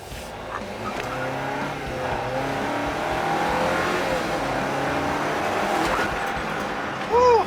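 A 2022 Jeep Wrangler Rubicon with a 2.0-liter turbocharged four-cylinder accelerates hard from 0 to 60, its engine drone rising steadily and loudly with no talking.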